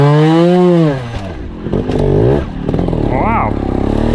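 A 2019 factory Sherco trials motorcycle revs hard in third gear, wide open, as it climbs a big sand wall; the engine pitch rises and falls in close, loud surges, with brief clattering as the bike works up the slope.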